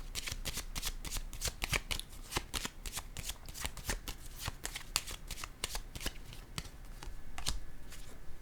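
Tarot cards handled and laid down one after another on a table, a steady series of crisp papery slaps and shuffling flicks close to the microphone, with no talking.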